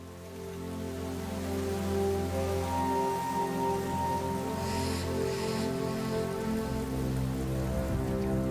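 Steady rain falls on the Linyanti plain in a continuous wash of patter, even and moderately loud throughout, with a brief brighter burst of splashing midway.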